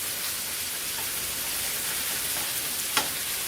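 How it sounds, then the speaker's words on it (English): Ground beef browning in a frying pan gives a steady, soft sizzle with a faint crackle throughout and one brief sharper tick near the end. No one speaks. "Now you're going to brown up the ground beef."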